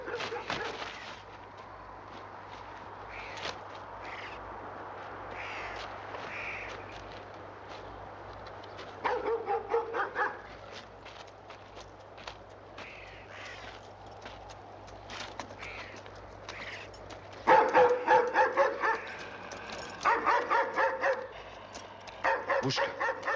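Hunting dogs released for a fox hunt bark and yip in excited bursts, distant at first and then louder and closer near the end, over a low steady hum.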